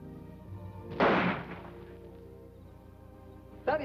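Pistol shots in a 1949 western film: one loud, sharp crack followed by a short decaying tail, then a second report about two and a half seconds later, with a faint sound-film hum underneath.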